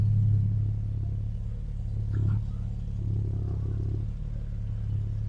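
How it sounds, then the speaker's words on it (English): A 1963 Jaguar E-Type Series 1 3.8 OTS idles with a steady, deep, low exhaust burble that pulses gently and evenly throughout. "The exhaust note sounds lovely."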